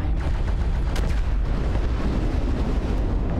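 LRM missile volleys fire in a mech combat video game, a dense burst of loud booming launches and impacts packed into a few seconds with no pause.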